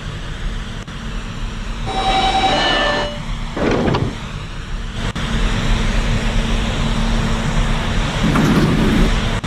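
An R110B subway train on a test run, loud and close, with a continuous rumbling hum, a high electric motor whine rising and falling, brief tonal beeps or chimes, and a sharper burst near the middle.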